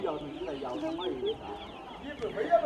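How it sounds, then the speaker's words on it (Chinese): Hens cluck in short, repeated bursts close by in a rural yard, a busy run of calls with a person's voice mixed in. "我们家大红、二红下蛋辛苦了哈"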